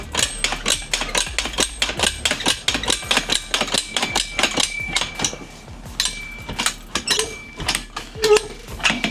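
A cargo load lock bar in a truck trailer is ratcheted into place, giving a long run of sharp metallic clicks and clanks in quick irregular rhythm, close and loud with no talking.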